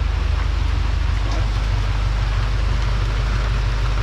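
Heavy monsoon rain pours over a 25-year-old Honda City VTEC, a dense steady hiss and drumming on the car with a low engine rumble underneath, continuous and close.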